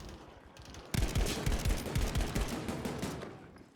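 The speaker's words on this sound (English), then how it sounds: "shooting at your friend, that's nice" Rapid bursts of automatic gunfire from the video game Battlefield 5 break in suddenly after a quiet start, a loud rattling string of close shots continuing to the end.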